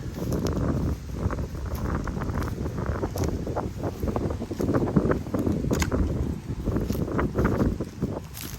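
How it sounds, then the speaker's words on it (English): Steady wind buffets the microphone in a cemetery in Yalaha, Florida, a constant low rumbling roar with gusty fluctuations throughout, no talking. "I apologize for the wind. It's a bit of a windy day."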